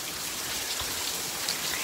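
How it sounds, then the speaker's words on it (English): Steady rain from the outer bands of Hurricane Ian in Port Saint Lucie, a dense continuous hiss of falling drops, close and even throughout with no voices. "It is raining a little bit in Port Saint Lucie."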